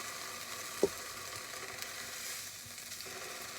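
A cold tortilla dipped in red salsa hits a hot pan for enchiladas rojas, giving a quiet, steady frying sizzle with a single soft tap near the start.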